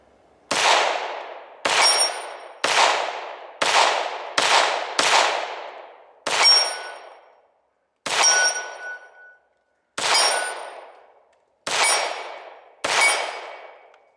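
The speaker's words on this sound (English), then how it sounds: "Let's do some shooting." Eleven loud, sharp shots from a Ruger PC Charger 9mm AR-style pistol ring out one at a time at an uneven pace, some paired quickly and others spaced apart, with a metallic ring after several of them and no talking.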